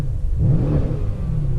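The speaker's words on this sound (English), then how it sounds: "Open the exhaust valves." A Mercedes engine revving with its exhaust valves open, a deep, steady, mid-level rumble that swells slightly near the middle and holds for under two seconds, with no talking.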